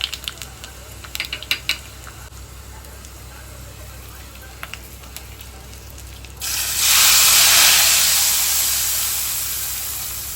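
Garlic and cumin tempering hits hot oil with a sudden loud sizzle that swells and then slowly fades, after a quiet stretch of light clinks and kitchen background noise.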